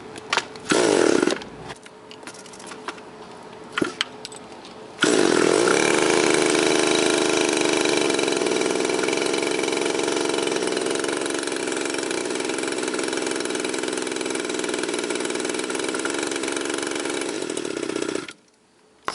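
A Homelite Bandit minibike engine, fitted with modified motor parts, sputters briefly, then catches and runs steadily for about thirteen seconds in cold weather, loud and close, before cutting off.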